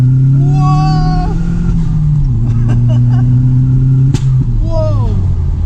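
An Audi S3 with a 1.8T engine accelerates hard under boost, with a loud, close engine drone that climbs through the gears and pauses at a shift. A person talks over the engine noise.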